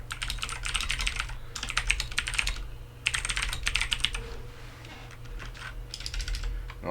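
HyperX Alloy Origins mechanical keyboard with blue switches being typed on, giving bursts of sharp, clicky keystrokes separated by short pauses over a low background hum, close and with no talk.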